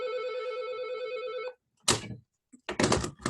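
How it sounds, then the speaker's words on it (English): An office telephone rings with a sustained, loud bell tone that stops abruptly, followed by silence and then a couple of short thumps and rustles nearby. "That's a phone that can't be shut off."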